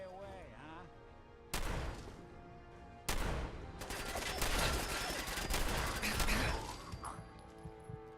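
Gunfire in Fallout 4 on survival difficulty inside a vault, with sharp bursts of shots and a sustained fusillade that starts suddenly and keeps going for several seconds, loud against quieter game ambience.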